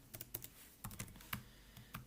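Quiet keystrokes on a computer keyboard, a handful of light clicks in small irregular clusters, close and soft with no talk.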